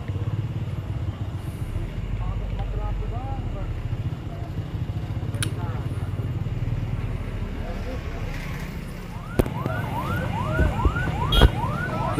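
An ambulance siren rises and falls repeatedly near the end, at a car crash scene, over steady traffic rumble and people talking nearby.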